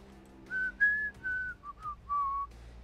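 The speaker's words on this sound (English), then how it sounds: "I'm gonna whistle too." A single person whistles a short wavering tune of about half a dozen clear sustained notes, close and fairly quiet, over a low steady background hum.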